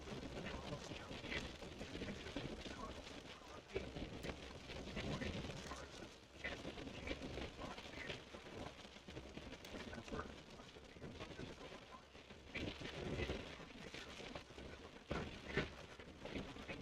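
Rain falls during a storm chase drive through Texas hail and tornado weather. It makes a faint, continuous patter and hiss over the vehicle for the whole stretch.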